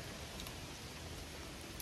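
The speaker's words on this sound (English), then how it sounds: "So we're down to a sprinkle, and it was a nice warm rain." Light warm rain sprinkling steadily outdoors over a garden, a soft continuous hiss of fine drops with no talking.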